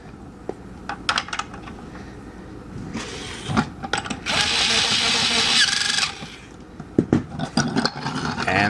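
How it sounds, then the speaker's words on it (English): A screw is being driven into a plastic piece of a take-apart toy airplane, giving a whirring power-screwdriver buzz in several bursts, including one longer sustained stretch, mixed with scattered plastic clicks and taps and no talking. "So we can screw that one down."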